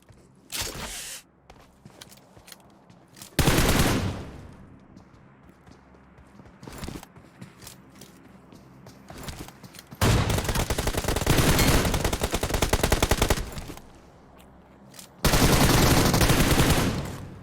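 Gunfire in the mobile battle royale game PUBG Mobile: loud sustained automatic bursts alternate with single shots and quieter stretches of footsteps, with three long, heavy volleys close by.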